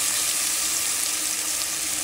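Ginger garlic paste sizzles in hot oil with a loud, steady, close frying hiss throughout.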